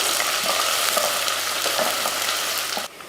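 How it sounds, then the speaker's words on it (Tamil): Small shallots, curry leaves and whole spices like cinnamon and cloves sauté in hot oil for mutton dishes, a loud, close, continuous sizzle with soft scraping stirs before it suddenly drops away. "ஒரு நூறு கிராம் அளவுக்கு சின்ன வெங்காயம் நல்லா பொன்னிறமாக வதக்கிக்கலாம்"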